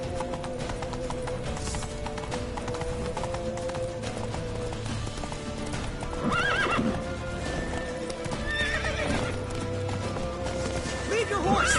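Hooves clatter in a steady gallop in the video game The Witcher 3, with a horse neighing and whinnying, while voices shout over the busy mix of music and effects.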